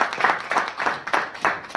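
A handful of people clap in a brief burst of applause with uneven rhythm, moderately close, at a Dominica government parliamentary event.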